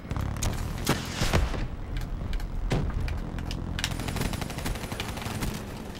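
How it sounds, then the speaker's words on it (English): Gunfire in the Black Ops 3 video game during a team takedown match: a rapid stream of sharp shots and bursts, several loud cracks standing out over continuous battle noise, with no talking. "All those shots and I got nowhere?"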